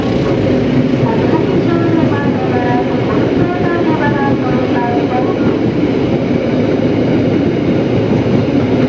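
The Argo Anggrek train thunders loudly past Bekasi station in a continuous roar with rhythmic wheel clatter and metallic squeals, filling the whole stretch.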